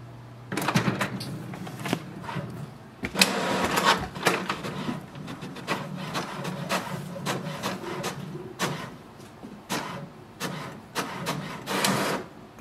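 An HP Smart Tank 5101 inkjet printer prints an information page, running steadily for several seconds, feeding and clattering with repeated mechanical whirs and knocks at an even pace.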